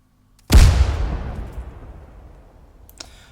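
A single heavy grenade blast in Arma 3 modded with Blastcore, a sharp loud boom after a moment of silence that rolls into a long decaying rumble over about three seconds, with a faint click near the end.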